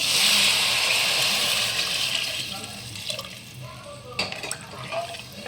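Water poured into a cooking pan for pulao, double the quantity of half a kilo of rice, gives a steady rushing splash that is loudest at the start and settles into a softer trickle and bubbling, with a few clinks near the end.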